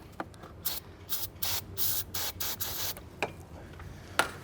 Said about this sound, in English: I'm gonna use some brake cleaner again.